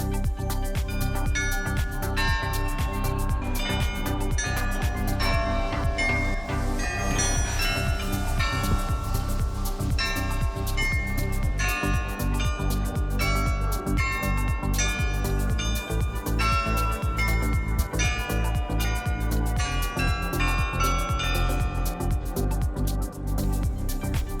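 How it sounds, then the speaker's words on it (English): Church bells ringing in Delft, a dense overlapping peal of many bell strikes with long ringing tones, loud and sustained throughout, no voices. "beautiful bells from the church"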